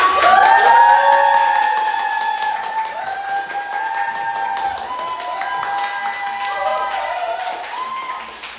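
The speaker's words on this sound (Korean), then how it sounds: "센텀 브랜치 원정현 점장님을 큰 박수로 모시도록 하겠습니다" A large audience of around 300 people claps and cheers loudly to welcome a branch manager to the stage for a leadership lecture; dense applause with shouts and whoops that eases slightly toward the end.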